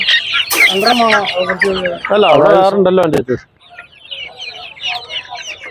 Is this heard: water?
no